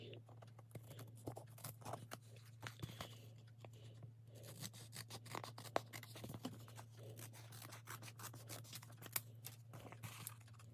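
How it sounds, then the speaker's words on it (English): Paper being cut for a handmade gatefold album, a dense run of small scratchy snips and rustles close to the mic over a steady low electrical hum. "And now we are going to cut this one."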